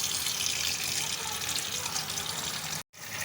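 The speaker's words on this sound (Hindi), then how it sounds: "छाननी में इसको छोड़ दें और ऊपर जो है पानी खोल दें" Tap water pours steadily over mutton liver in a kitchen strainer, a close, even rushing stream that cuts off abruptly near the end before resuming briefly.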